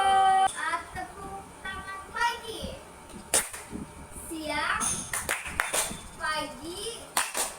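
A group of children clap their hands in a classroom role-play game, with sharp claps in short bursts mixed through constant child speech and chanting.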